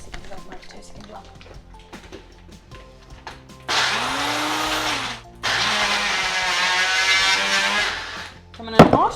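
A kitchen blender crushes Biscoff biscuits in two loud whirring bursts, the second longer, close up, with talking before and between them.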